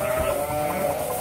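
Sheep bleat steadily at a dairy farm near the sheepfold, a loud, sustained call filling the short moment with no talk over it.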